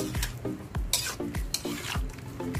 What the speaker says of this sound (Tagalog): haluin natin ng konti para mag-mix yung ating